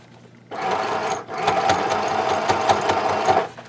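A sewing machine stitches a fabric belly band for a travel case, starting abruptly after a quiet moment and running with a fast mechanical whir and rapid needle clatter, briefly pausing once before continuing.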